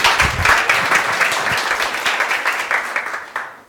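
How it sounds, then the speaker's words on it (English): Audience applause at a tech community meetup, with dense steady clapping from a sizeable crowd, close and loud, holding throughout and tapering slightly at the end. "Big round of applause."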